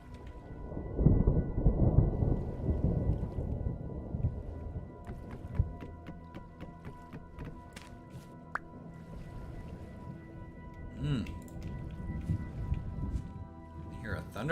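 Thunderstorm with rain in the Vintage Story survival game: a deep rolling thunder rumble swells early and fades, then steady rain patters and drips continue with a few sharp clicks and another low rumble later.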